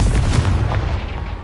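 A Confringo blasting spell goes off in Hogwarts Legacy as one loud, booming explosion that rumbles and fades within about a second.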